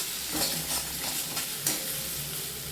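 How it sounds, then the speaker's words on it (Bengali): Raisins get stirred into a spice masala in a pan over a steady low sizzle, with soft scraping strokes and a brief utensil tap near the end, and no voices. "মিশিয়ে নেওয়ার পর এর মধ্যে কিশমিশ দিয়ে দিচ্ছি। কিশমিশ দিয়ে দেওয়ার পর ভালো করে মশলার সাথে মিশিয়ে নিচ্ছি।"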